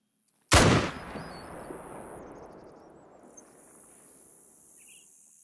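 A single loud, close .303 rifle shot in theHunter: Call of the Wild, aimed at a deer in reeds, a sharp crack followed by a long rolling echo that fades over several seconds while faint insect chirps continue in the background.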